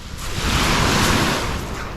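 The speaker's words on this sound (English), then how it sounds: "the waves are coming in hot here" Ocean waves roll in on a beach at night, a steady, full surf wash with breaking rush and wind, loud and continuous throughout with no voices.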